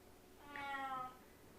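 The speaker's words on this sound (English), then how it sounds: "This is her meow" A single drawn-out cat meow, fairly close and clear, rising then falling, heard alone over a quiet background hum.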